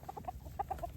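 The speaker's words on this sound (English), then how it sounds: "So these are our chickens." Pasture-raised chickens clucking nearby, a soft run of short, repeated clucks from several birds at low volume over a faint outdoor background.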